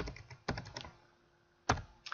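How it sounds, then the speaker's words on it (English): Keys clacking on a computer keyboard, close and crisp, with a quick burst of several strokes, a pause, then a few more taps; no voice heard. "the way we do that is we just type in file append"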